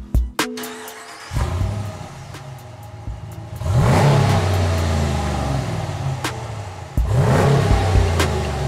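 A 2021 RAM 1500 Classic Warlock with the 5.7-liter Hemi V8 fires up with a sharp start, then gives two loud, close revs that swell and fall away, the engine idling between them with no talk.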